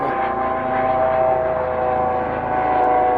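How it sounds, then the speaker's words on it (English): A steady engine drone from a helicopter flying overhead, loud and continuous with a tonal whine, holding level throughout without pause. "Oh, that's a helicopter."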